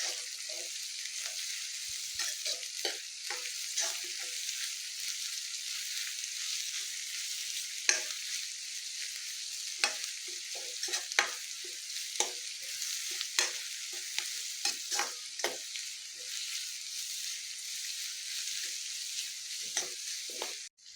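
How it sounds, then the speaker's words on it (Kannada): Capsicum and cabbage stir-fry in a pan for veg noodles, a steady bright sizzle punctuated by frequent scraping strokes of a spatula throughout. "ಇವಾಗ ಕ್ಯಾಪ್ಸಿಕಮ್ಮು ಮತ್ತು ಕ್ಯಾಬೇಜ್ ಹಾಕ್ಕೊತಾ ಇದ್ದೀನಿ."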